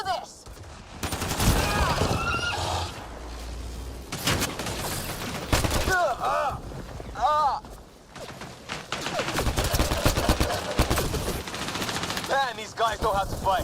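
Sustained gunfire in Mass Effect Andromeda, rapid automatic bursts and scattered shots in heavy waves with brief lulls, mixed with whooshing effects and shouted voices during combat.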